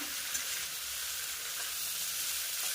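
Boiled soybeans go into a pan of curry with pumpkin, potato and drumsticks, giving a steady, dense hiss of frying oil that stays level and close throughout, with no voices.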